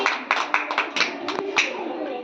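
Children clapping in a group activity, a quick run of uneven claps over about two seconds with voices chattering underneath.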